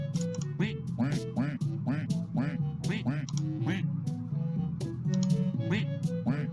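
Cartoonish ducks from the Unity game Ducksellate quack over and over in a quick, steady stream of close, clear calls, with no talking.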